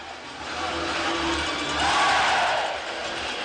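Hockey arena crowd roaring as the Everblades win their third straight Kelly Cup in Game 5 of the 2024 ECHL finals against Kansas City, a dense sustained wall of cheering that swells louder midway before easing slightly.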